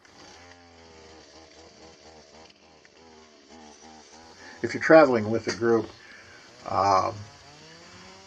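A chainsaw whines in short bursts, revving up and cutting through a fallen tree twice, heard after a voice speaking over a quiet outdoor trail background in the Black Hills.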